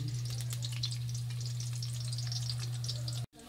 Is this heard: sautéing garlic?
yes